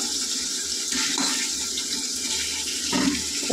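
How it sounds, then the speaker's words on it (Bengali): A little water poured into a pan of frying spices while a fish-head curry is cooked. A brief watery gush and splash rise over the steady sizzle, close by, and no one speaks. "সামান্য একটু জল দেবো মশলাটা ভাজার জন্য।"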